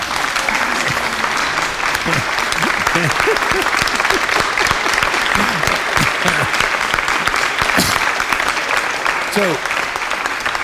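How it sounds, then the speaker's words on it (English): Audience applause in a conducting interpretation class on Elgar's Serenade for Strings, steady dense clapping filling the room throughout, with a few voices calling out over it. "So we do the applause, please."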